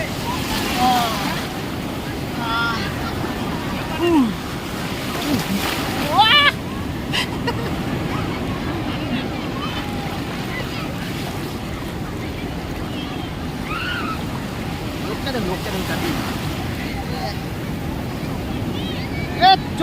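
Ocean surf rolls in continuously at Puri sea beach, a broad roar mixed with gusty wind noise on the microphone, while people talk and call out over it throughout.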